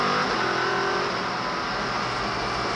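A GTS-class sports racing car accelerates at Lime Rock Park during an American Le Mans Series race, its engine a steady, loud roar that holds throughout with no voices over it.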